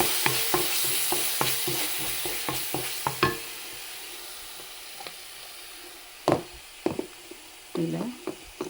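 Ground coriander and mint paste sautés in a pan for a vegetable couscous biryani, with continuous sizzling, repeated spoon scrapes and knocks against the pot, louder clatters toward the end, no speech.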